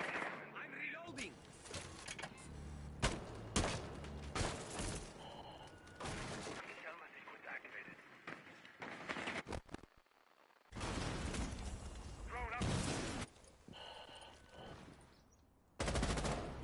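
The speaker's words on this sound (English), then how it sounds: "He just shot. This man was just shooting." Bursts of automatic gunfire and single shots in a PS4 shooter game, loud and close, broken by short pauses and a near-silent gap, with a voice talking over parts of it.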